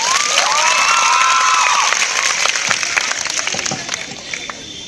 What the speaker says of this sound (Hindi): एक जोरदार तालियां सर के लिए।